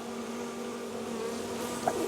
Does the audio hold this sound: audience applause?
no